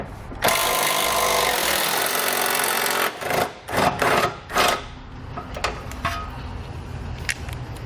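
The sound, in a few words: 18mm socket ratchet removing muffler hanger bolts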